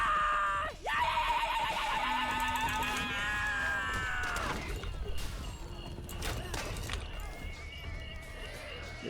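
A horse in a video game whinnies loudly near the start, a rising and falling neigh over a busy game soundscape. Other tonal cries and effects follow, and a person talks faintly throughout.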